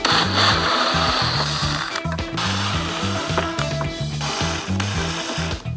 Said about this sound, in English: With your T25, you want to go ahead and remove your 4 base mounting screws here.